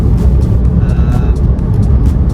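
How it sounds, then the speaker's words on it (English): Motorbike on a rough road between Nelspruit and White River, a loud, steady low engine rumble with a faint intermittent whine, close and continuous throughout, with no voices. "you'll see a bike coming past very soon"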